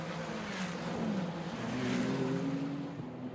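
Ferrari 488 Challenge Evo race car sliding through the turns at Imola, its engine a steady, fairly distant drone that rises and falls across the stretch with no voices over it.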